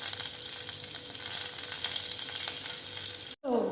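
Cumin seeds and curry leaves sizzle in hot refined oil, a steady, close crackling hiss with small pops throughout, briefly cut off near the end, with no talk.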